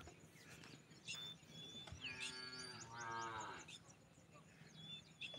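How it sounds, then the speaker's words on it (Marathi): Cows low in long, drawn-out moos on a farm on a green, cool morning, moderately distant, with faint bird chirps in the background. "आमचे गायांचे कसे हंबरड्याचे आवाज येत आहेत"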